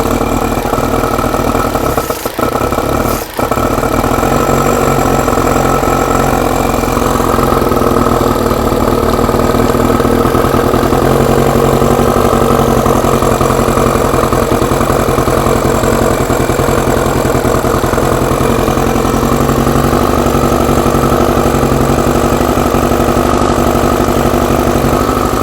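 A motorcycle engine idles steadily on choke, running loud and close with a constant rough drone for the whole stretch and only a brief dip early on.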